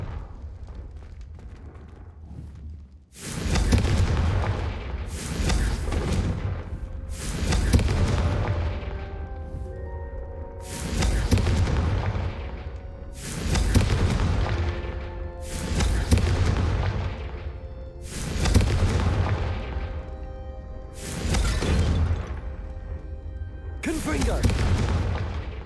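Confringo blasting spell cast repeatedly in Hogwarts Legacy, about eight heavy booming explosions at steady intervals of roughly three seconds, each with a sharp onset and a long rumbling decay, loud and close.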